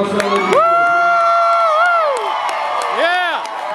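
Crowd cheering and whooping at a country concert in a dance hall and saloon, loud close whoops and a sustained sung-out cheer over a general crowd roar, with some clapping underneath.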